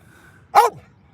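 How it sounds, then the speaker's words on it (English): A single loud, sharp bark from an elderly 14-year-old English Staffordshire bull terrier, close and brief, in an otherwise quiet setting. "He's a 14-year-old English Staffy with a loud bark."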